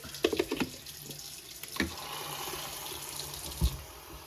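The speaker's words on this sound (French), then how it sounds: "Nettoyage, un peu d'eau." Water from a tap runs to rinse a milk frother, a steady close wash of flow broken by a few brief clatters and knocks of the frother against the sink.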